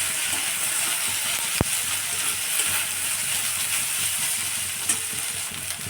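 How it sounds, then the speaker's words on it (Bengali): Chopped vegetables with green chilli frying in a pan for chire pulao: a dense, steady hiss of oil close by, with one sharp knock of the utensil early on and a few soft scrapes, no voices. "এবার ভালো করে ভেজে নিচ্ছি"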